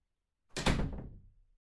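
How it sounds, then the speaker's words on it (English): A door swings shut with one close, heavy thump that decays over about a second in an otherwise silent room. "Now scoot so I can close my door."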